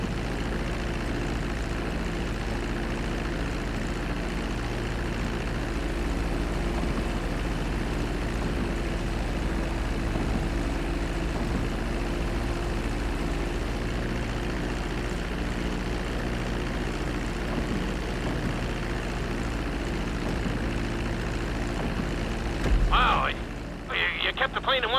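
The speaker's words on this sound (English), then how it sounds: "Now let's get the plane off the runway. Taxi over to the marked area and come to a complete stop." A propeller airplane taxis along a runway in the video game Grand Theft Auto V, its steady engine drone and hum running continuously at close range, with a brief burst of other noise near the end.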